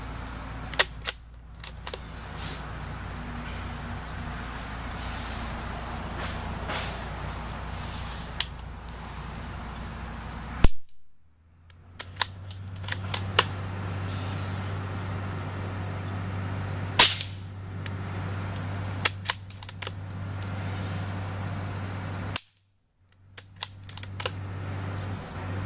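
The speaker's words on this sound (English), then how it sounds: "I'll be shooting this Marlin XT-22tr" A Marlin XT-22tr rifle firing CCI CB short and long bullets, about ten small, sharp cracks spaced several seconds apart over steady outdoor background noise, with no talking.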